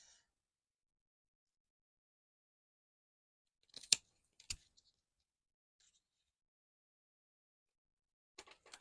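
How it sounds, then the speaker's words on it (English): Scissors fussy-cutting paper for a craft project, heard as a few quiet, crisp snips in an otherwise silent room: a pair near the middle and another couple at the very end. "can just fussy cut this."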